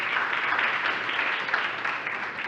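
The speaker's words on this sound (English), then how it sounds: "Another hand clap for Mr. Okello." Applause for a speaker at a panel discussion during the EAST Festival 2022, a steady wash of many hands clapping from a moderately sized audience, continuous and even for a few seconds.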